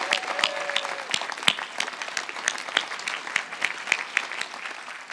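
An outdoor crowd applauds construction workers at a building topping-off ceremony, with steady, moderately loud clapping that has distinct individual claps and runs throughout.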